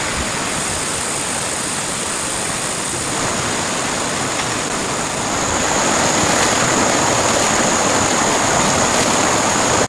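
A stream flows loudly and steadily with dense, hissing water noise and no voices while a shovel is washed in the current, the rush growing slightly fuller toward the end.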